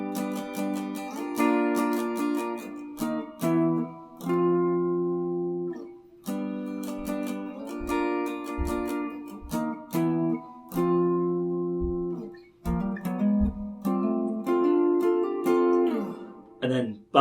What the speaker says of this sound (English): So altogether that section should sound like this.